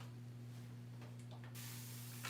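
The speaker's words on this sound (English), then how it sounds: "And then I've got to spray it with regular water." Regular water is sprayed from a spray bottle onto a painting, a soft hiss of misting bursts followed by a louder, sustained spray, over a constant low electrical hum.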